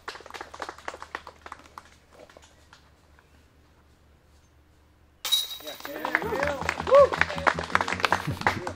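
Disc golf basket chains clink from a tap-in putt at a tournament round, a crowd erupting in applause and cheers afterward; a quiet, murmuring stretch with light talk comes first.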